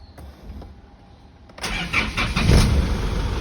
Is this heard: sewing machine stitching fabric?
no